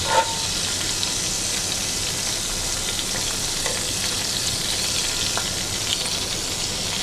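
Beef tenderloin sears in a hot pan with garlic, giving a loud, steady sizzle that runs the whole time, broken by a few faint clinks and stirring sounds near the start.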